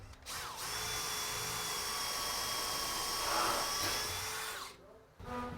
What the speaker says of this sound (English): so we'll pre-drill for these brackets